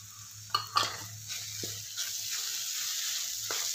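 Ground spices, garam masala, pav bhaji masala and turmeric, sizzle and fry in hot oil while a spoon stirs them through, giving a steady close sizzle broken by a few sharp scrapes and clinks.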